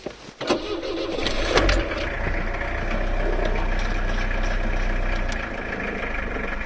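A diesel car engine cranks briefly and fires up once its glow plugs have heated, then settles into a steady, close idle without any talking.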